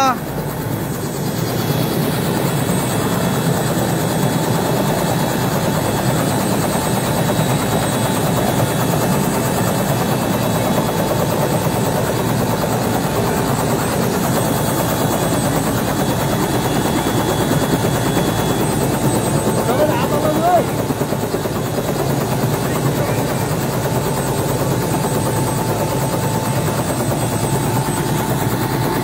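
Helicopter at an ambulance handover event in Dhanchaur, Nepal, taking off and flying with a continuous loud rotor thump and engine whine throughout, constant and close.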